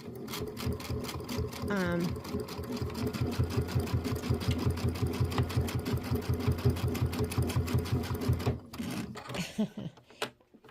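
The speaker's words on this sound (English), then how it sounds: "I'm just going to sew right along the very edge" A sewing machine stitching along the very edge of a quilted roll-up pouch with a dual feed foot and open toe foot, a close, fast, steady mechanical chatter that runs for several seconds, then stops, followed by faint handling.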